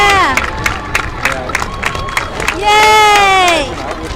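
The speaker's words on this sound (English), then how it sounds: "You hear the Ohio State team cheering." The Ohio State University team cheers and shouts at the 2019 NASA Human Exploration Rover Challenge as their rover completes its run, with loud, close whoops and yells rising at the end.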